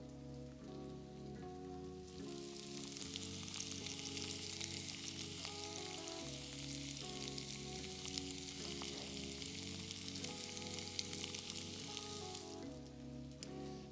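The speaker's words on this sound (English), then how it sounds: "Or the appropriate time, enter onion. Sizzle reel, baby." Onion frying in a pan gives a steady, dense sizzle with crackles that runs the whole time, close up, over soft background music and with no talking.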